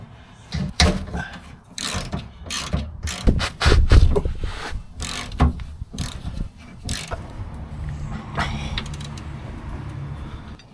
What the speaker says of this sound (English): unbolting the shackle at the back end of the spring there. They're really quite tight, these, but easily doable with a ratchet